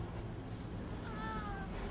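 A large injured cat that fell from a building and was impaled on metal lets out one strained, wavering meow partway through, faint beneath heavy, steady background rumble.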